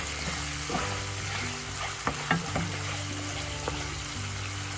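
Spice paste with green chillies fries for shrimp kofta malai curry, giving a continuous close sizzle with a few sharp utensil taps and scrapes against the pan.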